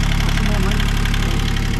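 Engine on a sailboat running steadily with its belt turning, a loud, continuous close-up mechanical drone with a regular low pulsing rhythm throughout.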